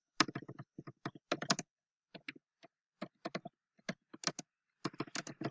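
Irregular clusters of crisp keystrokes on a computer keyboard, close and quiet with gaps of silence between bursts, and no voice over them.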